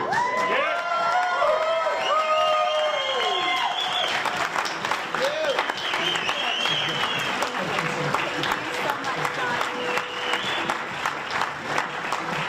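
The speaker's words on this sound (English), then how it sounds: "Let's give Sarah Foley another round of applause." An audience at a summit talk claps and cheers for a speaker, with whoops and shouts over the applause. Musical tones sound at the start, and the crowd noise stays lively to the end.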